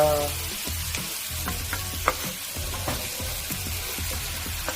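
Kimchi stir-frying in a pan for kimchi fried rice, seasoned with chili flakes and sugar: a continuous close sizzle broken by repeated spatula scrapes and taps in an uneven rhythm, no voices.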